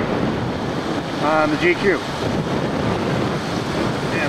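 Pacific surf at Pacific Beach, Washington rumbles as a steady broadband wash under heavy wind buffeting on the microphone, with a brief faint voice partway through.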